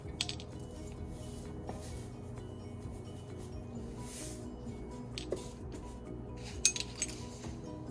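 Whisking dry ingredients, cornstarch with baking powder and salt, in a bowl for crispy sesame balls: a steady soft scraping and stirring throughout, with a few light clinks of utensil against the bowl near the end.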